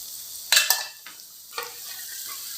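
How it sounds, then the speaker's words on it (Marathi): Brinjal pieces stirred in a frying pan over a low flame: a few quick scraping strokes near the start and another one later, above a faint steady sizzle, with no talking. "कमी गॅसवरच हे वांग आपल्याला चांगलं मिक्स करून घ्यायचं आहे"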